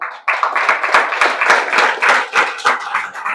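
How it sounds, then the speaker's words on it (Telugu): An audience at a church gathering claps steadily and densely for a few seconds, a close, continuous burst of many hands with no talking over it. "వాళ్ళిద్దరిని బట్టి ఒకసారి చప్పట్లు కొడదామా?"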